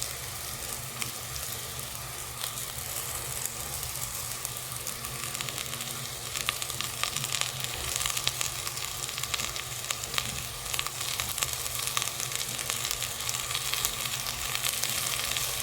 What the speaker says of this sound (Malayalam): ഇതെല്ലാം ഒന്ന് നന്നായിട്ട് വഴറ്റിയെടുക്കാം